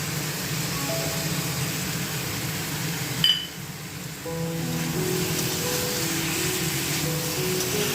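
Spice paste loosened with water poured into a hot pan for a vegetarian watermelon curry: a dense, steady sizzle that briefly dips at the moment of the pour, then resumes with hissing bubbling, no talk.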